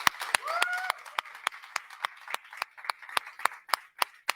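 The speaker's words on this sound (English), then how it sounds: "Let's clap for the people in this room." A small audience in a room claps for the people present, with sparse, distinct individual claps that grow into a steady, fairly rhythmic beat, and a brief voice over the first second.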